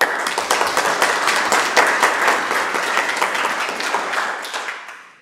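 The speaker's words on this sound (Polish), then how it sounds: "Ogromne brawa." Strong applause fills a town council session hall, a dense, even roar of many hands clapping together that holds steady before tapering off and fading out at the end.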